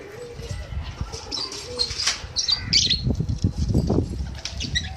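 Pigeons on a rooftop in Karachi bursting into flight, a flurry of fluttering, clattering wingbeats building and continuing for several seconds, with faint chirps and coos mixed in.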